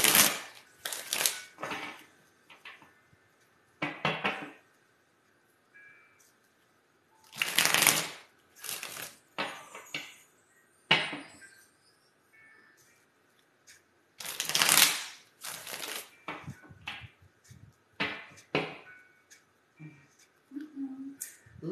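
A tarot deck is shuffled by hand in quick, crisp riffles and flicks, coming in irregular bursts with short pauses between, close and clear in a quiet room.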